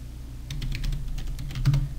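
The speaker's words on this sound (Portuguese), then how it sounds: "digitando SU" Keys clatter on a computer keyboard as the su command is typed in a Linux CentOS terminal, a quick run of close, crisp taps over a low steady hum.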